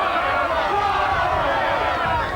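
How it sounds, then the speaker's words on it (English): A crowd at a 1990 Wigan v Rochdale rugby league match yells in a continuous, dense roar while a commentator's voice runs over the top. "Crowd yelling for blood"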